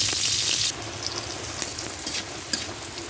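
Bitter gourd fries in oil with nigella seeds, mustard seeds and a dried chilli, a bright hiss that drops quickly to a softer sizzle with occasional stirring clicks close by.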